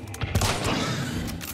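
A burst of loud, sharp gunfire from the video game Hunt: Showdown cracks in quick succession, echoing briefly before fading into a noisy wash.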